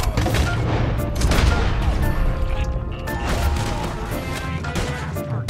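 Rapid, loud gunfire from Red Dead Redemption 2 crackles almost nonstop, with overlapping shots and impacts over a dense game soundscape, and someone talks briefly over it.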